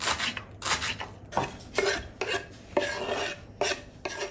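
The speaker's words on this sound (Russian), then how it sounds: "нарезаем лук зеленый и помидорчики" Green onion and tomatoes being chopped on a kitchen board: a run of irregular knife strokes and scraping rasps at close range, with no voices.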